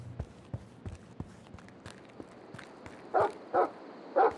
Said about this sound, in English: Don't bark.